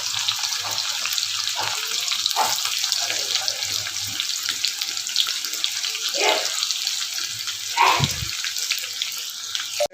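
Chopped onion goes into a pan with roasted garlic and sizzles, a loud steady hiss with bursts of crackle and a few clinks, while someone speaks briefly.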